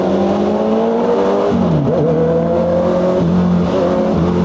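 Two Honda motorcycles, a CBR650R and a CB650R with inline-four engines, one with an Akrapovič exhaust, riding together at night: loud, continuous engine drone that rises and falls in pitch as the throttle changes.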